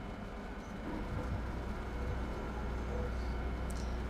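A train in the Train Sim World 5 game begins rolling forward, with a steady low rumble and engine drone that swells slightly, faint and continuous with no clear individual events.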